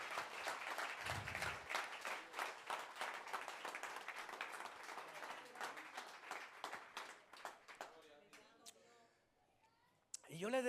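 A church audience applauds during a service, a fairly dense round of clapping that gradually thins into scattered claps, followed by someone speaking and a brief thump near the end.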